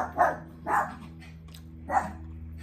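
A pet dog at a house in California barks three times at someone walking past, sharp and fairly close, separated by short pauses over a faint steady hum.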